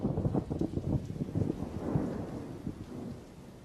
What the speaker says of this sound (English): Throughout the summer, electrical storms roll across the desert.